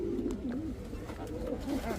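A yellow Bombay pigeon coos in soft, repeated rolling calls, close and fairly quiet, with faint voices in the background.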